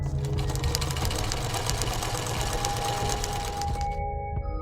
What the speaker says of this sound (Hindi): टीवी देखते हुए सिलाई मशीन पर सिलाई का काम करने लगी